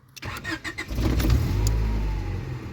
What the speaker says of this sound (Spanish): Vamos a girar la llave de contacto a ver si mantiene ese voltaje durante al menos 2 segundos.